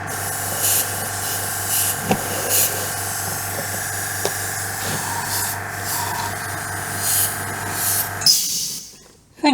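An airbrush sprays paint onto a 1/48 scale Timberwolf model, its compressor giving a steady close hiss over a low hum. The hiss runs unbroken, then cuts off abruptly near the end.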